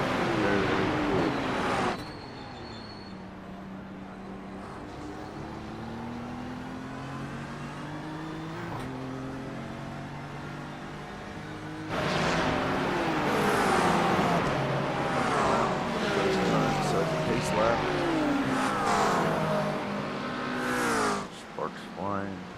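GT3 race car engines at Mount Panorama in the iRacing simulator, revving with rising and falling gear-change sweeps throughout, loud and continuous, with someone talking over much of it.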